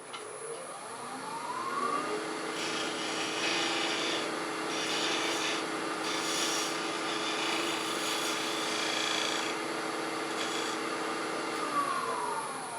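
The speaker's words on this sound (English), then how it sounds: "by the time I touch it with a little sandpaper, it should spin freely" Sandpaper works against a spinning wooden pepper mill part, producing a continuous, fairly loud rushing hiss over an even mechanical whir that holds steady throughout.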